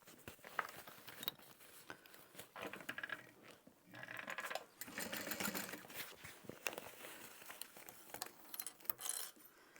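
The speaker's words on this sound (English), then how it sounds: "as I sew this side together" A sewing machine stitches the side of a small fabric bag together, with quick irregular mechanical clatter and faint clicks and rustles, close by and fairly quiet.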